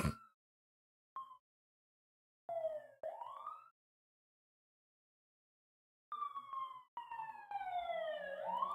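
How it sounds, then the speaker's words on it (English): Police sirens wail past on a street, a brief yelp at first, then two short bursts and a long sweeping wail that rises and falls as the vehicles draw near and go by, with quiet gaps between the blasts. "Sorry, there's sirens and they're distracting me."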